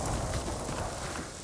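A horse gallops in Ghost of Tsushima, giving a quick run of close, loud hoofbeats that fills the short moment without talk.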